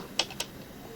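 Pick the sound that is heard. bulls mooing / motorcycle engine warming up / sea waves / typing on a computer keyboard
typing on a computer keyboard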